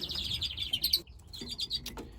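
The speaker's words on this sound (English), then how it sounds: "this is a female chaffinch" A female chaffinch chirps in a quick run of bright, high tweets, pauses briefly, then chirps again, close and clear with no talking.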